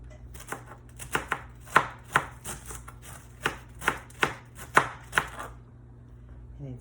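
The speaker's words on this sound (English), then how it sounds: "If you like it bigger, you can cut it yourself with the knife" A knife chops vegetables for pikliz on a cutting board, a dozen or so crisp, close strikes in an uneven rhythm, sometimes in quick pairs, with no talking.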